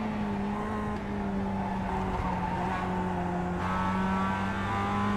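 A race car driven on a track in a sim racing game played on a CAMMUS 15Nm direct-drive wheel sends out a steady, buzzing engine drone with shifting pitch and brief tire-squeal slides, loud and close throughout.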